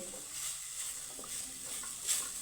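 Jackfruit seeds coated in gram flour fry in a pan while being gently stirred, producing a soft, continuous sizzle with faint scraping movements and a brief louder stir near the end.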